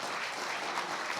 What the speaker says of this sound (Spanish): denle un fuerte aplauso a Chiche.